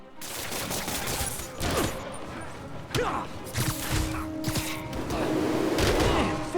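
Gunfire in Marvel's Spider-Man Remastered, a dense fusillade of rapid shots with crashes and impacts, loud and close, with some muffled game voices mixed in.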